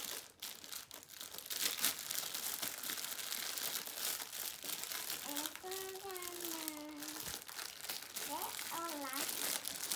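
Shipping packages being opened at home: steady, close plastic crinkling and tearing runs throughout, with voices, including a child's, speaking over it midway.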